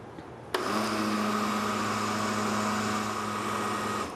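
A countertop blender, not a high-powered model, pulses a vegan cheese sauce meant for nachos and pasta: a loud motor whir starts abruptly and runs steadily close by for over three seconds, with no talking.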